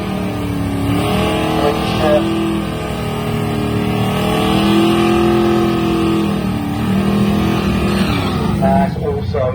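An American Superstock race car painted Ford Grabber Blue, powered by a 5.3 litre aluminium LS engine, gives a loud, steady engine drone that rises and falls under continuous commentary.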